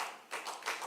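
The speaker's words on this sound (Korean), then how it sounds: "박수 3번 시작" Hands clapping in a church family worship service, three separate bursts of claps spaced evenly apart, fairly quiet in a room.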